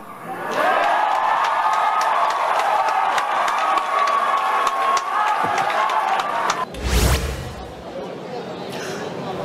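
A large political rally crowd chanting and shouting against President Marcos, a sustained roar of many voices with a rhythmic chant, then a sharp loud burst near the end followed by continuing crowd noise.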